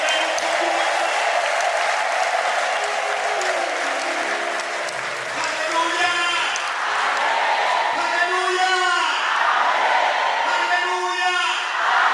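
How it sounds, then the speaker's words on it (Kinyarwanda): A church congregation at an ADEPR service claps at length, dense steady applause with cheering voices and singing tones rising over it toward the end. "duhereza amashyi menshi n'ubutitari"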